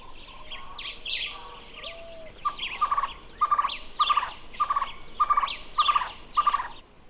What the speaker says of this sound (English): like the national bird, the Cuban trogon